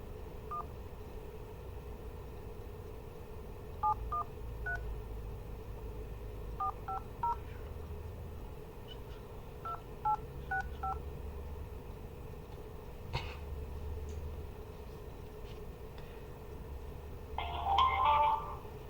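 Telephone keypad tones dial a number, short clustered beeps in bursts over a steady hum, followed by a louder ringing tone near the end.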